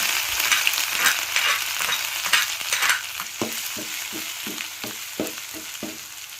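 Chillies fry in a pan of hot oil while carrot chutney is being made. A steady close sizzle is broken by a rhythmic run of stirring scrapes, with no voices.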